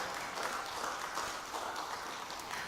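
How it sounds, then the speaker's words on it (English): Faint, distant audience applause rolls on steadily at a school-proprietors' event before an official draw, a soft even patter of many hands. "give her a round of applause."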